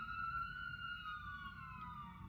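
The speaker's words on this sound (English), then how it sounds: "the sirens are loud" Emergency vehicle sirens pass outside, a steady high wail with its pitch sliding slowly downward as the vehicle moves away, heard faintly through walls over a low background rumble.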